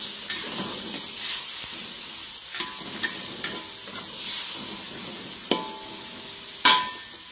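Pieces of chicken breast fillet fry in a pan for noodles with water spinach, giving a steady loud sizzle broken by several sharp clinks and scrapes of stirring, with no talking.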